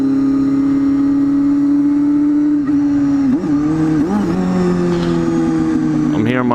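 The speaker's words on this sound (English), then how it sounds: "I'm here in my Honda Hornet 250." A Honda Hornet 250 motorcycle engine hums steadily while riding on a Saturday morning in Melbourne, a close, loud droning tone that dips and rises as the revs shift midway, continuous from start to end with no talk.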